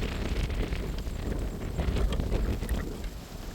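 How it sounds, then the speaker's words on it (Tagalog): Strong wind buffets the microphone in a steady, loud broadband rush with gusty swells at a pigeon release spot, and no voices are heard. "Medyo malakas ang hangin dito mga kalapatids."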